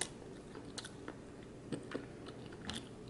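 Someone eating sweet potato fries cooked in an air fryer, with a few faint, scattered bites and chews spread over a few seconds, close but quiet.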